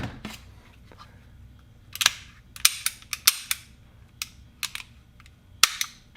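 Sharp, dry mechanical clicks of a Ruger SR22 .22 pistol being dry fired on a snap cap, a dozen or so crisp snaps at irregular intervals, close and fairly quiet, with no talking.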